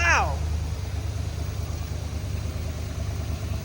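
An old Dodge police car engine idling smoothly, a low, even, steady drone up close, with a brief voice at the start.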